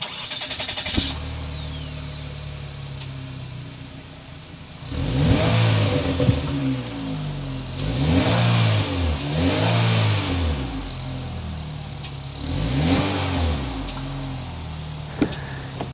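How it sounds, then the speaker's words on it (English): A turbocharged four-cylinder engine in a 2023 Chevrolet Malibu LT idles, then revs sharply three or four times in short bursts, the exhaust rising and falling with each blip. "start up this Turbo 4 so you can hear that exhaust note"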